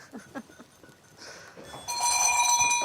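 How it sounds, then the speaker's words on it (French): A goat on a countryside farm on a cold day gives a short, moderately loud bleat near the end, after a quieter stretch of soft rustling and faint earlier calls. "On va voir cette chèvre alors."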